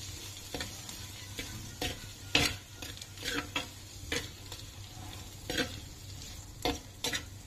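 Gongura chicken curry with salt is mixed in a pan: soft, irregular spoon scrapes and clacks repeat over several seconds at close range, fairly quiet over a low steady hum, with no speaking.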